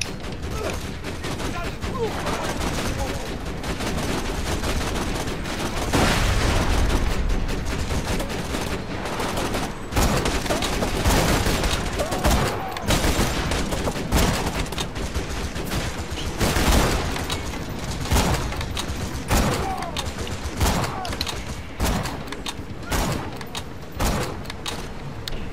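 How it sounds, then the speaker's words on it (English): Heavy, continuous gunfire from a Borderlands 2 firefight rattles on for the whole stretch in dense, loud bursts with frequent sharp shots and thumps and no pauses. "Shooting out your kneecaps, buddy"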